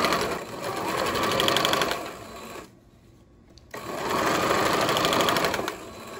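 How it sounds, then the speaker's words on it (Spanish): A domestic sewing machine stitches elastic onto a felt ironing board cover, its rapid rattling hum running in two close bursts separated by a short pause. "Coloco el elástico sobre la felpa y lo voy alando según voy cosiendo."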